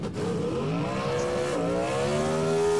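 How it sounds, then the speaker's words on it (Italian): A car accelerating hard: a loud, close engine note climbs steadily in pitch, briefly dips as if shifting gear, then rises again, with no voices. "Accelerata!"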